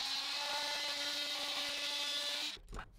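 A car tail light housing is cut along its ultrasonic weld with a power tool, giving a steady, loud whining cut with a strong tone that runs nearly three seconds, then stops abruptly, leaving brief handling noise.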